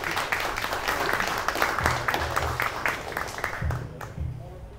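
An audience claps after a talk on agroforestry land regeneration, a moderate round of applause with a voice talking over it.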